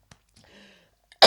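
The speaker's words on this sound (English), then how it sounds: "Oh, big cough." A single sharp, loud cough bursts out at the end after a quiet stretch with faint breathy vocal sounds.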